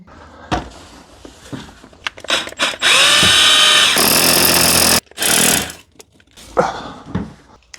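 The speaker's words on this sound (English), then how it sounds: "That should be plenty of room for me to get in with the drill down there." A power drill whirs loudly and close by in a few bursts, with one long steady run and a shorter one after it, separated by brief pauses.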